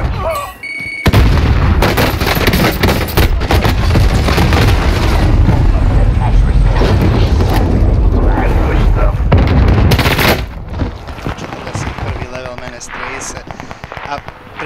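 A frag grenade explodes in the Warzone battle royale game, a loud booming blast amid dense, continuous gunfire and crackle that fades out near the end, with players talking over it.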